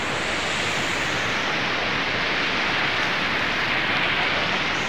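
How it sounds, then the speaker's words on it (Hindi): A waterfall seen from the top pours down in a dense, unbroken roar of rushing water, loud and steady throughout with no other sounds standing out. "तो ये है पूरा झरना का जो है ऊपर का नज़ारा,"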